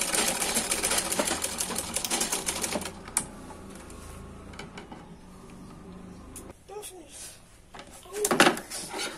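A sewing machine stitches a trouser seam with a fast mechanical chatter for a few seconds, then stops, leaving quieter handling clicks and a brief louder rustle near the end.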